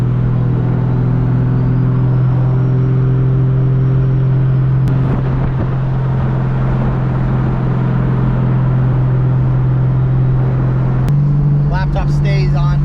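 A 600-horsepower Lexus IS300 cruising in gear, its engine a loud, steady low drone heard from inside the car, with a brief shift in tone near the end and a voice talking faintly over it.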